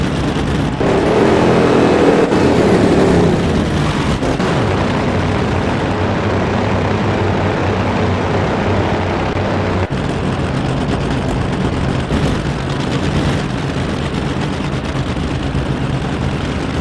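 NHRA drag racing engines in a video game roar at full power, a loud, dense, continuous blast with a brief surge early on, held without pause through the whole stretch.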